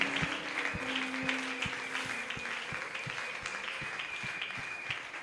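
A church congregation claps to celebrate God, a fairly faint, continuous wash of applause with a steady rhythmic beat running beneath it and a sustained musical tone in the background.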